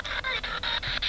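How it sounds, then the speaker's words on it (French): A radio beeps during a nighttime paranormal investigation in a park, giving a steady run of about six evenly spaced high electronic tones, close and fairly loud. "Ça, c'est la radio."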